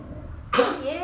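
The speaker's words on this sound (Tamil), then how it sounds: "9 தும்மல் ஃப்ரெண்ட்ஸ்." One sharp, loud sneeze bursts out close by during a sneezing challenge, after a stretch of quiet voice and background murmur.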